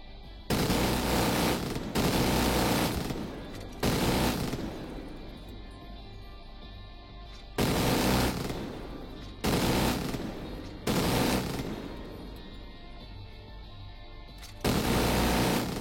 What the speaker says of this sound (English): This gun overheats too, so you have to, like, be careful how much you use it. Also very loud.